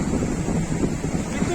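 Sea waves at Paradip beach, heard as a continuous rushing surge close by and buffeted by heavy wind noise on the microphone, with a voice faintly mixed in.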